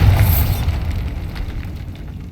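A Bombarda blasting spell bursts in a decaying catacomb in Hogwarts Legacy: a loud low boom at the start that rolls into a rumbling, fading debris wash over the following two seconds, with no voices.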